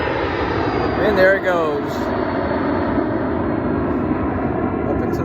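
A fixed-wing airplane roars through its takeoff run, a steady loud engine rumble filling the background while someone talks close by over it.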